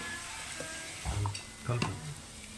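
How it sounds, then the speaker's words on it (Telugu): Ginger-garlic paste with cashews fries in a pan while being stirred, giving a steady close sizzle broken by two brief stirring scrapes and thumps. "అలా వేసుకొని అలా కలిపించుకుంటూ వేయించుకోవాలి"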